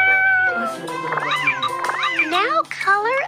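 Cartoon kitten in a BabyBus coloring game meowing several times in bright, rising and falling cries, loud and close, mixed with a child-like game voice.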